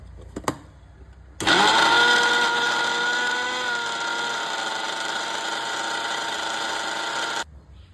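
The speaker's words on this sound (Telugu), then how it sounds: "కొద్దిగా నేను నీళ్ళని యాడ్ చేసి మెత్తగా మిక్సీ పట్టుకుంటున్నా." A kitchen mixer grinder whirs up to full speed while grinding a chili paste with water for karam dosa, holding a loud, steady motor whine for about six seconds before cutting off abruptly.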